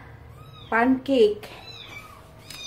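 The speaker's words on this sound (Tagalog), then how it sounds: "Kakapatapos ko lang pakainin yung mga pusa. Hindi pa mapakali. Iyak pa lang iyak." Cats meowing at home, two close, loud meows in quick succession amid quiet household background, with a person speaking briefly in the clip.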